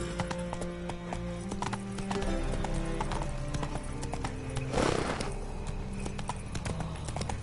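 Horse in the video game The Witcher 3 galloping, with rapid rhythmic clip-clop hoofbeats throughout, close and steady, with a brief snort partway through.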